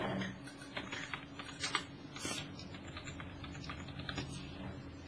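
Rapid clicking keystrokes on a computer keyboard, close and fairly quiet, in quick uneven bursts.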